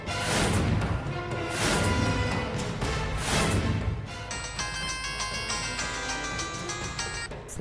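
A phone rings and goes unanswered in a Telugu TV serial scene, a loud repeating ring tone in several bursts, followed by a brighter, thinner electronic ringing pattern that continues to the end.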